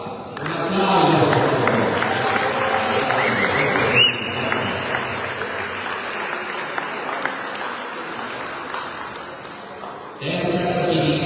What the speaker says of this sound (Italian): Top, un applauso.